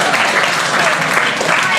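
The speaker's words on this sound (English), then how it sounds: "One more round of applause, please." Audience applause at an open mic comedy show, a brief, dense round of clapping heard up close, with a voice speaking over it.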